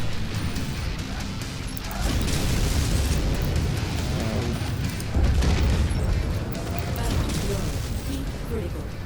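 A Warhammer mech goes critical and explodes in MechWarrior 5: Mercenaries. Heavy rumbling booms and crashing blasts swell twice amid a constant loud battle din, and a voice talks over it.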